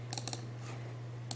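A few quick computer mouse clicks in a quiet room with a steady electrical hum, a close cluster of four sharp clicks followed by a single click after a pause.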